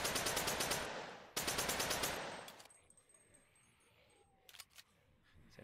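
Gunfire in the zombie-survival game Dead Men Walking in VRChat: two loud bursts of rapid automatic shots, then a quieter stretch with a few faint clicks.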